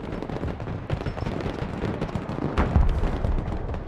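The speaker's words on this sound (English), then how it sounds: "Artillery at your command, sir. Direct fire engagement." Artillery fire in the war video game Broken Arrow, a dense rumbling barrage of booms and cracks that swells toward a heavier blast, loud and continuous.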